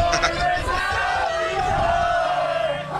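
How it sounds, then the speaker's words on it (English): Wrestling crowd chanting along to Silas Young's entrance music, a loud massed chorus with sustained sung tones over general hall noise. "The crowd seems to still be singing Silas Young's entrance music"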